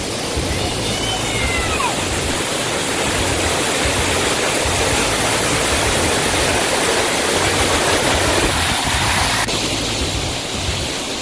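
White Oak Canyon waterfall in Shenandoah National Park roars as a dense, continuous rush of falling water, loud and close, filling the whole scene without pause.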